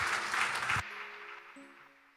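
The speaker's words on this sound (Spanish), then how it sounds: "Podemos dar aplausos al Señor" A church congregation claps together in dense, steady applause that stops abruptly, leaving a faint reverberant room tone with a few soft sustained tones.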